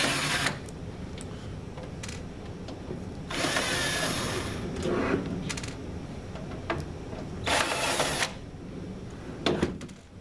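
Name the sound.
power drill removing screws from control panel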